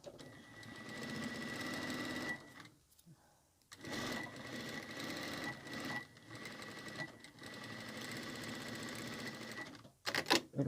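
Home sewing machine stitching a fabric long wallet, a close, steady motor whir in long runs with short pauses between bursts and a few clicks near the end.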